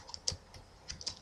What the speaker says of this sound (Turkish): Ondan klavye sesi falan fazla geliyor.